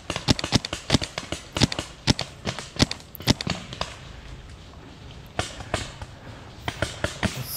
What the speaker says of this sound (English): let's take a couple shots at these people I can see through the woods